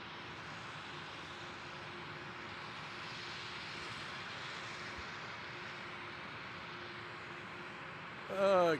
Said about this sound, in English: departing on 27, velocity 353, heading off to Brisbane, in a 737.